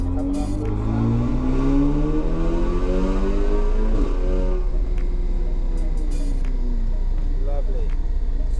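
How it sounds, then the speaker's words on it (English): A 500bhp Stage 3 tuned Audi S3 pulls hard in fifth gear on a dyno, its engine note climbing steadily as boost builds, with turbo whine and a brief hiss of blow-off near the end, loud and close. "So coming on boost now."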